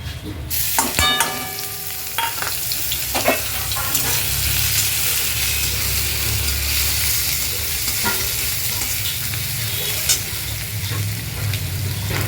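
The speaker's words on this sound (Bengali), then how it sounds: "তেলটা খুব ভালোভাবে গরম হয়ে গেছে। এখানে নিয়েছি আমি আদা, শুকনো লঙ্কা, তেজপাতা, একটু ফোড়ন দিয়ে দেব।" Ginger, dry red chillies and bay leaves temper in very hot mustard oil in a kadai, giving a steady loud sizzle with a few clinks and scrapes of a spoon.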